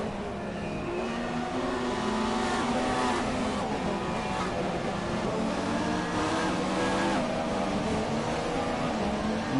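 Formula 3 race cars on the Canadian Grand Prix circuit in a racing video game, several engines droning and whining together at high revs in a continuous, steady roar with shifting pitch.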